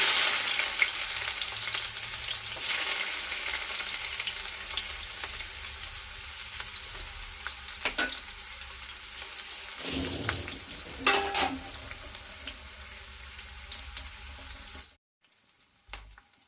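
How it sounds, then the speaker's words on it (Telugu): Small onions frying in a pan, making a steady broad sizzle with a few stirring clatters, then cutting off abruptly near the end. "ఇప్పుడు మనం చూడండి ఉల్లిపాయలు వేసేసుకుందాం"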